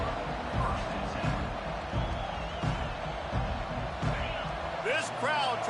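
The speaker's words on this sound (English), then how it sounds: "This crowd trying to show them what it's going to be like all day in this house." In the College Football 25 video game, the stadium crowd in an East Carolina versus North Carolina matchup makes a steady roar and murmur under the play-by-play commentator's talk, with a few thuds and swells.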